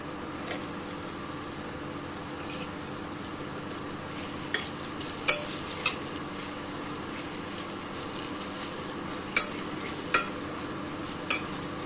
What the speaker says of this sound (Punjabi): ਲਸਣ ਚੰਗੀ ਤਰ੍ਹਾਂ ਫਰਾਈ ਹੋ ਰਹੇ ਨੇ